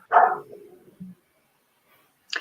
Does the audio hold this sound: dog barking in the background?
yes